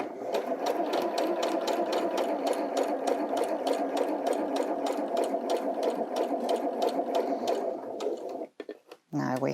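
A sewing machine runs steadily, stitching a quilting seam to join two fabric pieces with a tight, rapid, even needle rhythm, close and continuous, before stopping briefly near the end.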